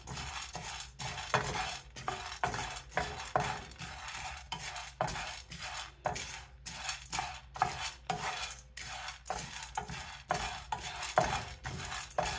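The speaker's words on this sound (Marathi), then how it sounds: "ही डाळ पण आपल्याला अशीच छानपैकी भाजून घ्यायची" Dal dry-roasting in a pan for laddus, stirred steadily with a spoon that scrapes and clinks against the metal in a repeating rhythm, close and fairly quiet with no talking.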